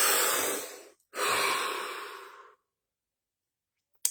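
A long, deep breath drawn in and slowly let out, close and airy, followed by a brief pause and a second, shorter exhale, then silence with a tiny sharp sound at the end.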